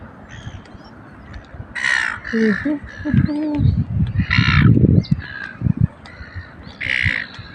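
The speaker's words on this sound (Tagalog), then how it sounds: "Mga ibon." Crows cawing repeatedly in harsh bursts at Mulwala Lake, Australia, some near and loud, with a low rumbling background and occasional other noises between calls.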